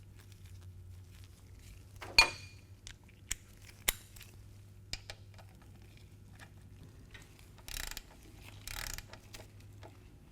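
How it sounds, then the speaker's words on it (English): Scattered mechanical clicks and a few sharp metallic ratchet ticks from a socket wrench with a 5/8 inch socket snugging a Harley-Davidson motorcycle primary drain plug, fitted with a new O-ring, close by over a low steady hum. "I like to start it by hand and then snug it up with my socket wrench"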